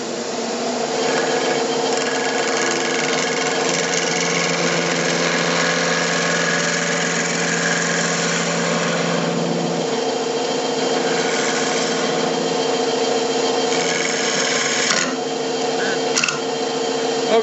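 A wood lathe turning a small toothpick holder blank held in pin-jaw chuck, giving a loud, steady motor whine with tool scraping and rubbing against the spinning wood throughout.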